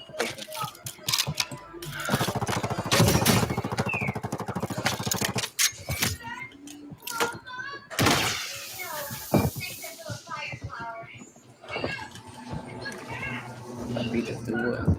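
Rapid bursts of submachine gun fire from a video game, dense and loud in stretches with brief gaps, mixed with other game sounds and a voice talking over parts of it.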